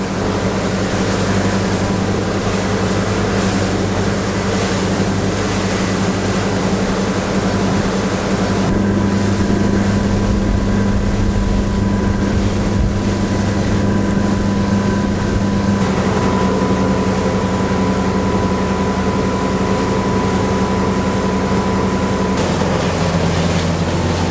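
Steady engine drone of a deep-V motorboat running on the plane at 20 knots and 2980 rpm, with water rush and wind noise throughout, loud and close, pitch shifting slightly partway.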